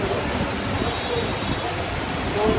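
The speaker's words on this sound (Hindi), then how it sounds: "बारिश ज़बरदस्त हो रही है, बंद होने का नाम नहीं ले रही है" Heavy rain in Dehradun pours down steadily as a dense, constant wash of noise, with faint rumbles underneath and no voices heard.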